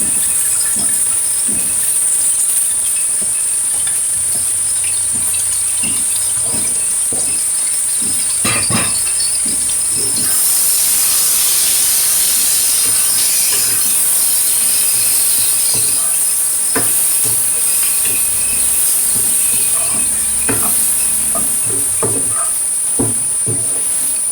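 Marinated spice paste for chilli fish hits a hot pan with a steady, loud sizzle and hiss, punctuated by occasional clinks and scraping as it is stirred.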